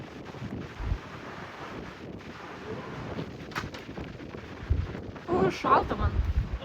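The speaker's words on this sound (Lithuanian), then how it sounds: "Kaip čia tą vėjuką parodyti?" Strong wind buffets a microphone outdoors in a dusty calima haze, a constant rough rumble with sharper gusts, while people speak briefly underneath.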